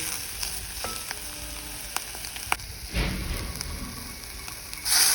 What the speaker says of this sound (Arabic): هروح جايبه كوبايه من الميه وحطاهم فوق البصلايه